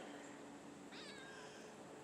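A kitten gives a single short, high meow, soft and somewhat distant, over a steady background hiss at a Michigan winter bird-feeding spot.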